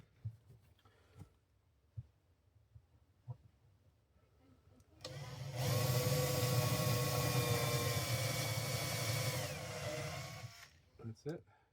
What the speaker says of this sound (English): MDF is very soft, so it won't take very long to drill.